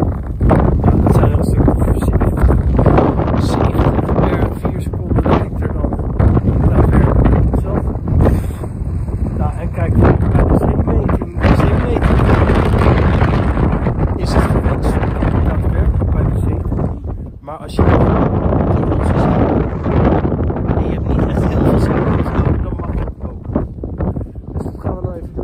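Strong wind on a Wadden Sea mudflat walk buffets the microphone in a steady roar, with faint talk and what sounds like water nearby.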